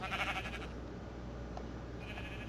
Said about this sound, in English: Oh, and I hear the sheep.